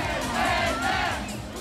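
Crowd of 47,000 spectators at a rugby international match in New Zealand, a loud massed roar of cheering and shouting rising and easing over a short moment.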